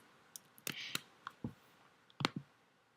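Mouse clicks at a computer while a search is added and run, a handful of short sharp clicks spaced irregularly, some doubled, fairly close and alone against quiet room tone.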